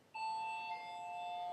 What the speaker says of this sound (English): I hate that bell. I hate our doorbell.